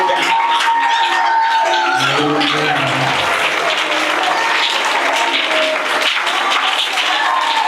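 A church congregation applauding loudly and steadily to acclaim Jesus, a dense wash of many hands clapping with music and voices beneath it.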